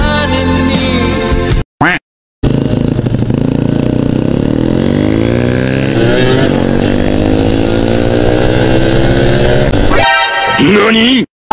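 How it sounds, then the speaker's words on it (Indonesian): Motorcycle ride at speed, a loud continuous engine drone with rising and falling pitch as it shifts through gears, wind buffeting, brief dropouts and a person speaking over it. "Laju motor kau."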